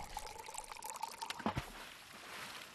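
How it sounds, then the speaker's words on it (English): Water pours into a toilet bowl in a short, moderately loud splashing stream that tapers off into a faint trickle, with no voices. "that's me filling up the toilet."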